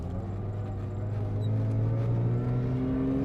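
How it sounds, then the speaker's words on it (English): A steady engine drone with a rising, buzzy rotary whine that climbs in pitch as a 1985 Mazda RX-7 with a rotary engine accelerates, no voices. "Hear that rotary whine,"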